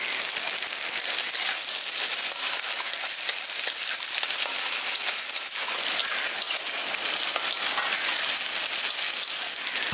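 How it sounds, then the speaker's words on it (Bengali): Tomatoes and onions salted and frying in a pan for a village-style rohu fish curry give a steady, close, dense sizzle and crackle that runs unbroken for the whole stretch, with no talking. "দেখুন এখানে টমেটোগুলো নরম হয়ে গেছে আর পেঁয়াজটাও ভালো মতো ভাজা হয়ে গেছে"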